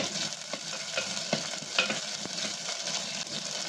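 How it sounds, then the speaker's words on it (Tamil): Shallots sauté in hot oil in a pan for a Tamil ground-masala fish curry, a steady close sizzle with occasional stirring scrapes and clicks. "சின்ன வெங்காயம் அது கொஞ்சம் எண்ணெயில் போட்டு வதக்கணும்"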